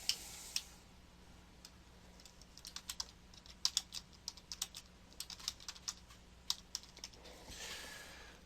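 Fingers tap on a computer keyboard while renaming a folder in Lightroom, a quiet, close run of irregular clicky keystrokes in short bursts with brief pauses between.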